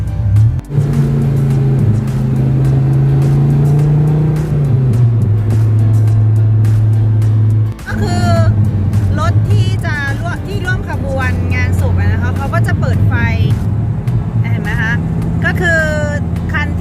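Cars creep along in slow traffic behind a police-led funeral procession, their engines a steady low drone from inside a vehicle, with someone talking over the hum for the second half.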